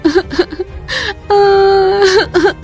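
A woman cries in sobbing, wavering whimpers, close and loud, broken by gasps and one long sustained wailing moan in the middle before the choked sobs resume.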